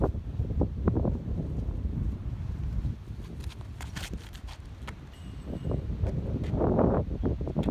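Strong wind blows across an open disc golf course, a steady broadband roar buffeting the microphone, with occasional faint rustles and light knocks.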